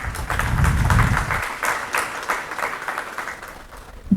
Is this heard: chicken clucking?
no